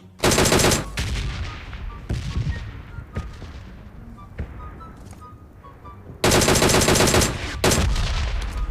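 Automatic weapon fire in the mobile battle royale PUBG Mobile on the Livik map, loud rapid bursts with short pauses between them and quieter single shots in the gaps.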